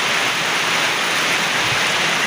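Rain falls hard onto a terrace, a loud, close, unbroken wash of dense spatter with no voices.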